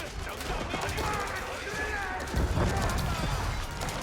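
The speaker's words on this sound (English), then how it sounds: "Engineers firing over here." In an Age of Empires battle, engineers fire siege weapons. A dense clatter of gunfire and impacts runs steadily throughout, with a heavier burst in the middle, while a voice talks over it.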